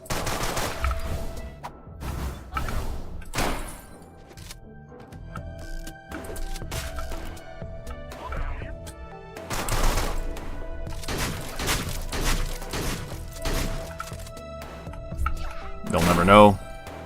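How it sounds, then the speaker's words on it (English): Gunfire in the video game Deadbolt: several sharp shot bursts spread across the scene, with a final loud volley near the end, heard over game sounds while people talk throughout. "You shoot all of our friends with all those bullets."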